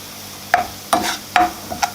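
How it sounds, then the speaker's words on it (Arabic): Onion frying with salt and seven spices for Aleppo-style sambousek filling: four short scraping stir strokes against the pan, roughly evenly spaced, over a faint low sizzle. "رح نقليهم مع بعضهم البصل والملح والسبع بهارات"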